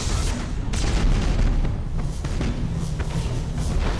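Heavy bombardment cannon fire in the Battlefleet Gothic Armada space game, a loud continuous barrage of booming thuds and rumbling blasts rolling over one another with no pauses.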